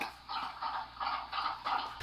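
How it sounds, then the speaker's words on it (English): A dog laps water in quick repeated bursts, wet slurping strokes coming in an uneven rhythm, close and fairly clear with no talking over them. "But it's actually a dog drinking."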